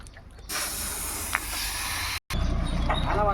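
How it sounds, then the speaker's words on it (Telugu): An insecticide sprayer mists over termites, a steady, close hiss that starts suddenly, runs for under two seconds and cuts out abruptly, with quieter background sound before and after. "మొత్తం పౌడర్ రాలకుండా ఇట్లా ఈ విధంగా స్ప్రే చేసేస్తాం"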